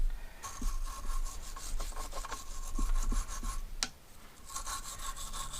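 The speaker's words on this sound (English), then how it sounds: "here's a copper brush, so I'm going to just do this one because it looks like it had just a little bit of corrosion" A copper wire brush scrubbing light corrosion off a Mercury 115hp inline-six outboard water pump part, rapid close rasping strokes in an uneven back-and-forth rhythm with a brief pause near the end.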